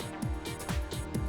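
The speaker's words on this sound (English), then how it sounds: "That's the sound of his shredded tyre." A shredded tyre on a WRC rally car in 2002, heard on board, makes a loud, close, rhythmic thumping and flapping that repeats several times a second over the engine.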